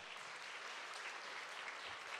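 Audience applause at the grand final gala of the sixth Patria Nostra history competition: a dense, steady wash of many hands clapping at once, even and sustained throughout, with no voices over it.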